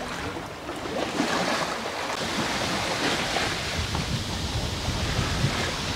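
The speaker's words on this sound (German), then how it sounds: "Aber ein bisschen Wind kommt gerade wieder auf, aber nicht viel." Wind picking up at sea around a single-handed sailboat on the North Atlantic, a steady broadband rush of air and water that stays constant and fairly loud throughout.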